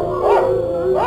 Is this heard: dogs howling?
yes